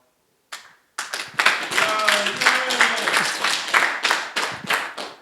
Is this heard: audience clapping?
yes